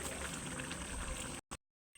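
Poppy-seed fish head curry bubbling in a pan as the gravy reduces, a quiet steady simmer that cuts out abruptly near the end with a brief burst before silence.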